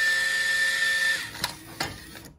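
A used ERD-20Q coin changer deposit unit running on a test rig, with a steady mechanical whir that stops partway, followed by two sharp clacks.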